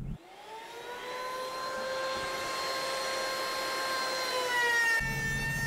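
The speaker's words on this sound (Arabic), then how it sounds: "بعد ما خلصنا الصنفرة نستعمل بونتة راوتر للأطراف" A mini trim router fitted with a bit shapes the outer edges of a square wooden tabletop, giving a steady, loud high-pitched whine that holds its tone throughout, then shifts pitch near the end as the cut eases off.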